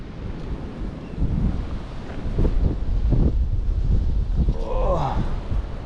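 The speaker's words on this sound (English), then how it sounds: "Ooh, it's windy." Gusty wind buffeting the microphone on a hiking trail overlooking a river, a rough low rumble that swells and surges through the stretch, with a person speaking briefly under the roar.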